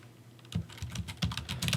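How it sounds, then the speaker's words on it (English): Someone types a password on a computer keyboard, giving a quick run of soft, close key clicks after a brief quiet start, with no talking. "And then, of course, you'll want to type in your password."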